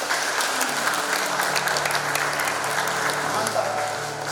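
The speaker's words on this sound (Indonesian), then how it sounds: "Silakan tepuk tangan." Guests at a wedding blessing ceremony applaud, a thick wash of clapping from a crowd that continues evenly, while a low musical drone and voices sit beneath.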